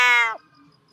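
A shivering, red-eyed rescued cat lets out a single loud, drawn-out meow that slides downward and cuts off, followed by near silence.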